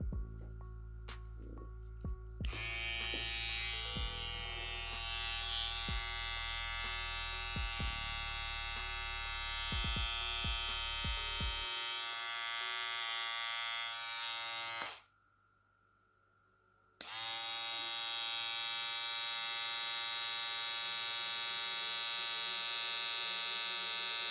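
A Trisan brushless hair clipper runs at speed for an RPM test, giving a steady high-pitched electric whine with a brief cutout partway through before it resumes, close and continuous.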